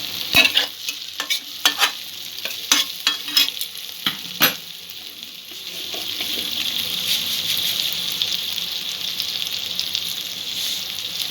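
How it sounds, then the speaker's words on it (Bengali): Spring onion stalks fry in a pan alongside rohu fish for a Bengali curry. Sharp stirring clatters and crackles come first, then a steady, softer hiss of sizzling continues alone up close. "ভাজতে ভাজতেই পেঁয়াজ কলিটা একটু সেদ্ধ করে নিতে হবে"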